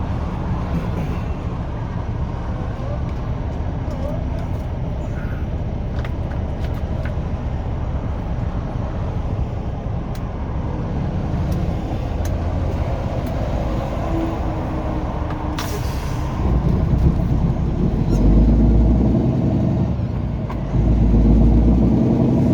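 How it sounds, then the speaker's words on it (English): A steady low truck engine drone with a rough, puffing rattle from an exhaust leak, the engine making about 40 to 50% power, continuous throughout and growing louder and rumbling toward the end. "What you're hearing is an exhaust leak."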